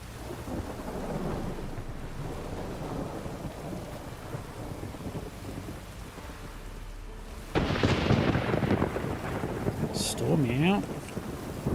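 A thunderstorm with rain in The Witcher 3, a steady hiss of rainfall under low rumbles, then a loud crack of thunder that rolls on while the rain keeps pouring.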